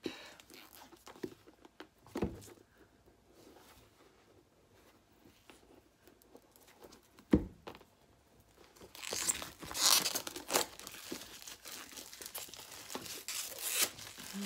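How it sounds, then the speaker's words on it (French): Plastic wrap is peeled and torn off a boxed grief-support kit, with soft crinkling and rustling at close range that grows louder and busier in the final seconds; no one speaks. "je vais aller retirer l'emballage"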